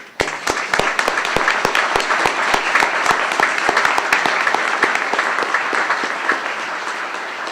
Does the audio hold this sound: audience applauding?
yes